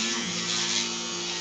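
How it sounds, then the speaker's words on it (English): Electric shaver buzzing steadily while shaving a man's stomach, a close, continuous hum with faint tonal whine throughout, no talking. "He's just shaving his stomach."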